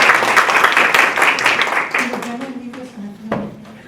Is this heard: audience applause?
yes